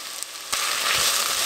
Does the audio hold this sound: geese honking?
no